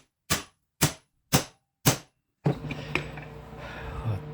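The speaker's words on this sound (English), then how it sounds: "Been hammering on this thing for the last few minutes." Four loud, sharp metallic hammer strikes ring out on a BMW 2002 tie rod end at a steady pace, close and alone, followed by quieter shop clatter and rustling.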